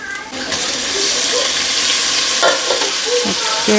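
Tomatoes and onions frying in a pan for a chicken fry make a steady sizzle, with stirring scrapes and brief clinks and clatter toward the end.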